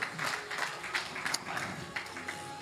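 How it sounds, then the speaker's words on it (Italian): A church congregation applauds during a healing service, soft, even clapping that carries on throughout the moment. "Fate un applauso allo Spirito Santo."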